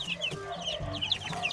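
Native chicks and hens in a backyard flock, heard close: high, repeated cheeping from the chicks over low, soft clucking from the adult chickens, with no talk.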